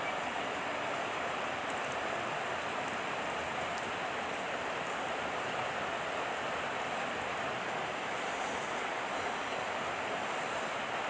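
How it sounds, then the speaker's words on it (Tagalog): Broadband, steady rush of a flowing river current outdoors, constant and loud with no break in its texture, no voices present. "Ganda ng agos ng tubig."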